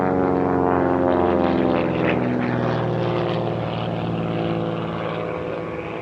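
T-34C Turbo Mentor turboprop aircraft at an airshow in Turkey, a loud sustained propeller drone with a steady buzzing hum, close by and slowly fading over a few seconds, with no voices.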